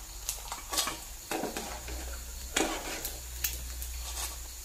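Food frying in a pan on a home kitchen stove gives off faint, scattered sizzling crackles that flare in short bursts over a low steady hiss, with no one talking.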